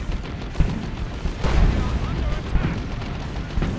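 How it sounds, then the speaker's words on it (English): Lascannon fire and battle explosions in the real-time strategy game Warhammer 40,000: Dawn of War 2: Retribution, a dense rumble of booms and blasts under a commentator's voice. "Oh, they got it with a las cannon."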